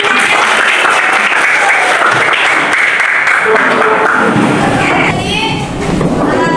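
A group of people claps together in a classroom, a steady dense burst of applause that fills the whole stretch, loud and close, with children's voices mixed in.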